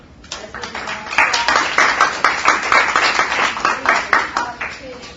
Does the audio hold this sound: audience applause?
yes